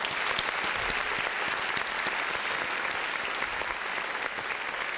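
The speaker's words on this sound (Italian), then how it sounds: "Io farei un applauso." Steady audience applause fills a music show venue, dense and continuous throughout with no talk over it.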